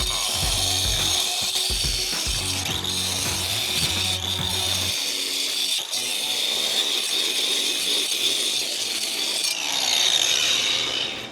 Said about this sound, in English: You can use an angle grinder for this, which I'm going to do.